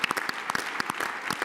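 An audience at a national leadership forum plenary and rally on Capitol Hill applauds the conference staff, a dense, continuous patter of many hands clapping at moderate volume.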